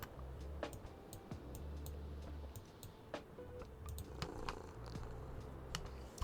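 Cat purring in the cozy video game Tiny Bookshop, a low steady rumble running throughout with light clicks and soft ticks scattered over it, no talking.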